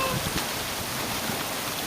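Steady rain in Las Vegas hisses evenly as a soft, continuous wash of drops with no other sounds standing out.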